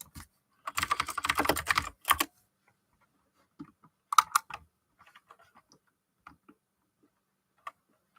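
Bursts of typing on a computer keyboard, a dense run of rapid keystrokes followed by a shorter flurry and a few scattered single taps, close and fairly quiet in an otherwise silent room.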